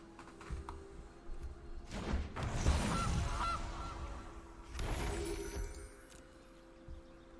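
Geese honk as a sound effect in the digital card game Magic: The Gathering Arena, two separate bursts of honking calls over faint background game sounds and clicks.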